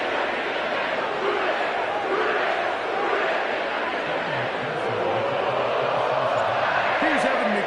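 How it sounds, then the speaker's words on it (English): A sellout stadium crowd at Paycor Stadium in Cincinnati roars as a steady, dense wash of cheering and chatter for the whole stretch, with a commentator's voice faintly under it. "sellout crowd has arrived at Paycor Stadium in Cincinnati."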